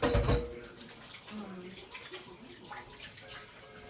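Tap water runs steadily into a kitchen sink while dishes are washed up after baking homemade pandesal, a brief louder splash at the start and then a soft continuous stream, with a voice speaking briefly.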